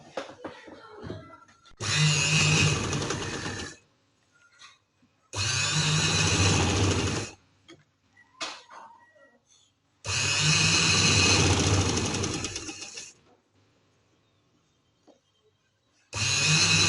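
A sewing machine stitches a neck design on a garment in repeated bursts of about two seconds of steady whirring, close and loud, separated by quiet pauses.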